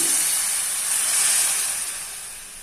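Tamarind juice poured into hot fenugreek pulusu seasoned with sambar powder sets off a loud, steady, close sizzling hiss that eases slightly toward the end, with no talk.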